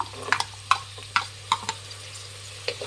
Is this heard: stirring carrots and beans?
yes